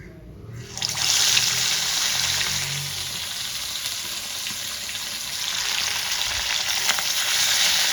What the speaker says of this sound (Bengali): তেলটা আমার গরম হয়ে গেছে, এবার এক এক করে আমি মাছগুলো দিয়ে দেব